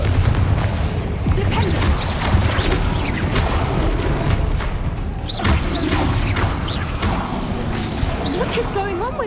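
Repeated Confringo fire-spell blasts in Hogwarts Legacy combat, a string of loud booming bursts and crashes over several seconds, with voices calling out over the noise.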